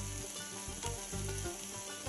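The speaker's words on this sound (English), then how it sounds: "This is regular bacon. I'm going to just render it in the pan." Steady, dense sizzling of bacon frying in a pan, a continuous crackling hiss with small pops, close and fairly loud.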